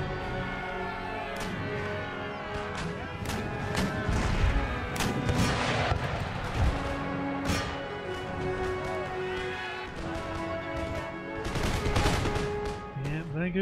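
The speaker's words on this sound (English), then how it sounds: "Cannon will do the job." Cannon and artillery fire in the battle game Empire: Total War, a dense, continuous barrage of booms and crackling gunfire with scattered musket shots, rising in intensity at times over a steady battlefield roar.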